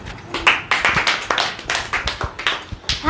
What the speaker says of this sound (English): So applause for her.